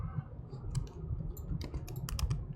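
Quick, irregular keystrokes clack on a computer keyboard, with close clicks over a steady low background hum and no voices.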